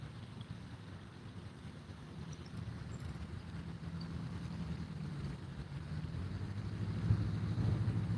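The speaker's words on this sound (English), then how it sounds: "Yikes, that wind sucks." Steady wind roaring and buffeting the microphone out on a fishing boat, a continuous low rumble that slowly grows louder with no voices.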